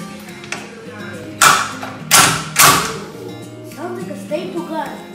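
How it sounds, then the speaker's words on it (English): Staple gun driving staples into wood while a DIY desk is assembled: three loud, sharp snapping shots in quick succession, close to the mic, set against quieter background music and a few lighter taps. "Staple guns."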